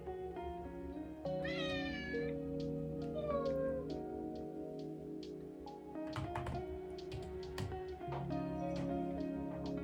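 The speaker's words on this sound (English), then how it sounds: "I have the company of both my host mom's adorable cats, Muku and Jigen." Two house cats at a homestay in Japan meow several times, close and clear, with drawn-out rising calls between quiet pauses, soft taps and faint household rustling.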